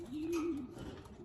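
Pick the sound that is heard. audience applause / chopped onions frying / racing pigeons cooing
racing pigeons cooing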